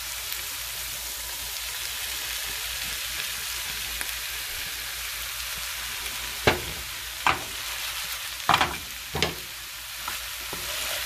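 Quinoa and cluster beans stir-fry in a pan over medium to high flame, a soft continuous sizzle broken by several sharp scraping and tapping strokes of a spoon in the second half.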